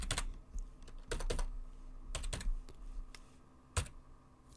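Typing on a computer keyboard, several quick clusters of near key clicks with short pauses between them, over a quiet room hum.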